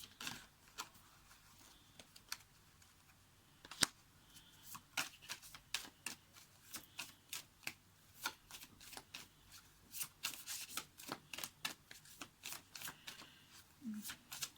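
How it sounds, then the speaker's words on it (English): Tarot cards shuffled by hand, a quick run of crisp riffling flutters and soft snaps close by, growing busier toward the end. "Let me just get some more cards"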